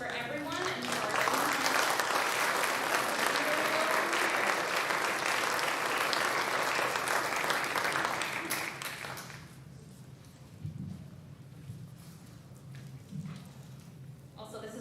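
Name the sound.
audience applause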